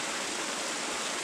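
Steady broadband roar of falling water at Triple Falls on Vancouver Island, a constant rushing hiss with no breaks, moderately loud and close, with no voices.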